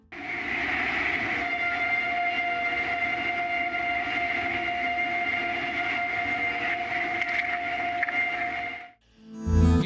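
A wind turbine at the Villonaco wind farm in the Andes gives off a steady, droning tonal whine as its brake engages, heard from ground level near the base, continuous for several seconds before a sudden low thump at the end.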